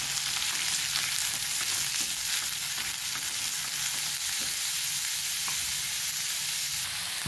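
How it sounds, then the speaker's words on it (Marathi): Chopped onion frying in hot oil in a pan, a steady, loud sizzle throughout with faint stirring scrapes, no talking. "आपण कांदा टाकूया, कांदा छान आपल्याला असा लालसर परतून घ्यायचा आहे"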